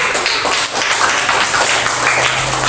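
A classroom of students claps together, a dense burst of quick, overlapping hand claps close by that runs steadily for a few seconds without talk.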